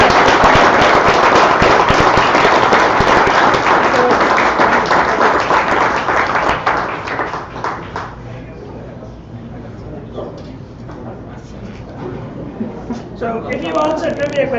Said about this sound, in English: So let's give Rachel a big round of applause.